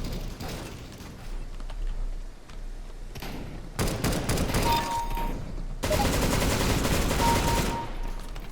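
Rapid automatic gunfire from a weapon in the shooter game CS:GO, long sustained bursts rattling loudly with short pauses between them and a faint voice underneath.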